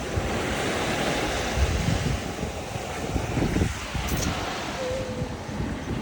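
Stormy sea waves wash onto an Odesa shore, a continuous rushing surf with gusty wind buffeting the microphone, steady and fairly loud throughout.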